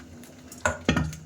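Marinated mushrooms drop into hot oil in a pan with two quick, close thuds in succession, each followed by a brief rough rush, against a low steady background.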